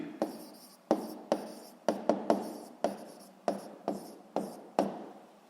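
A pen writes on paper up close in a run of about a dozen short, sharp strokes, each scratch fading quickly, with no talk.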